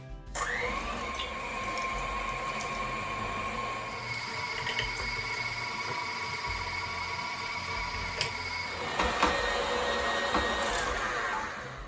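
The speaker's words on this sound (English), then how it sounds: "so I've got my KitchenAid food processor with the grinder attachment" A KitchenAid food processor with a grinder attachment grinds meat for Sicilian sausage, giving a steady close motor whine that runs nearly unbroken, with a few clicks and a rise in intensity near the end.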